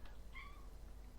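A pet cat gives a single brief, faint squeaky meow in the background over a steady low hum.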